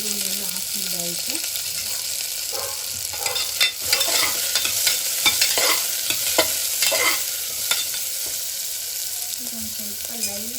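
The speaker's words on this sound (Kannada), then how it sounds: "ಒಂದು ಸ್ವಲ್ಪ ಲೈಟ್ ಗೋಲ್ಡನ್ ಕಲರ್ವರೆಗೂ ಫ್ರೈ ಮಾಡ್ಕೊಳ್ತೀನಿ" Chopped onions frying in a pan with peas about to go in, a steady loud sizzle close by with repeated scraping stirs and utensil taps over the hiss.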